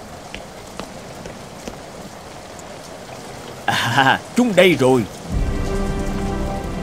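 Rain falling outside a porch in an animated cartoon: a steady patter throughout, with a person briefly speaking partway through.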